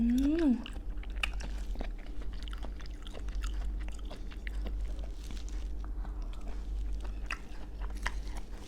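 Thai bouncy fish balls made from fish, onion, tapioca starch, sugar, sesame oil and egg white being bitten and chewed, moist squishy mouth sounds with soft crunches, close to the microphone while a person talks.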